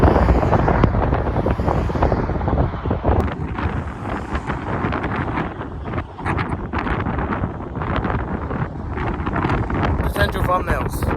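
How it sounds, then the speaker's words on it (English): Strong wind buffets a microphone outdoors at Hoover Dam, a loud rumbling roar that gusts unevenly, with a person talking beneath the blustering noise. "It's too windy out here."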